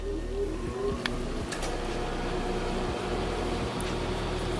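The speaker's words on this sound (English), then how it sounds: "Mug is in the microwave. I'm going to start this off at 1 minute." Microwave oven running with a mug inside, a steady low hum and drone filling the whole stretch, close and constant, with a few faint clicks.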